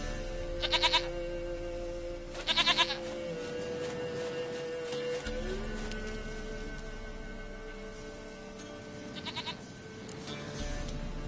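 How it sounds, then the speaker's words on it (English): Goat bleats in The Witcher 3 video game: three short bursts of wavering bleating spaced apart, over a steady ambient game backdrop with sustained tonal drones. "Goat of mine, dearest, sweetest goat."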